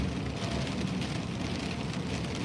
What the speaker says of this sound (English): Yeah, good rain, good soaking on the way.